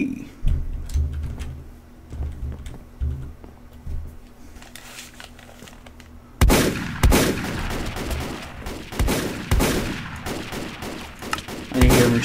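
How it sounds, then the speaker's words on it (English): Machine gun fire in the video game Rust: a quieter stretch of low thumps and hum gives way midway to loud, sustained bursts of rapid shots that carry on to the end. "Machine gun fire."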